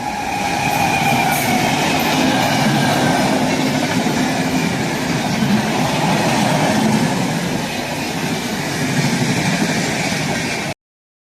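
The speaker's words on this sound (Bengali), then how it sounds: "ট্রেন এই সাঁতরাগাছি ঢুকে গেল।" Train running on the Vijayawada to Kolkata route as it enters Santragachi station, a loud, steady rail rumble with rolling wheel noise heard from on board throughout, no talk.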